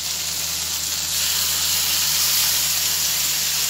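Ground spice paste dropped into a hot pan sizzles loudly in a dense, continuous hiss that swells slightly after the first second and holds steady throughout.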